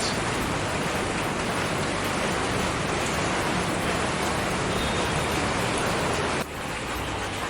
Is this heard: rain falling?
yes